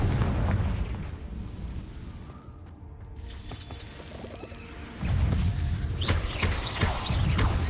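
Confringo fire-blast spells burst in Hogwarts Legacy, booming explosions thudding up close with crackling debris, one heavy blast near the start and another surging in midway.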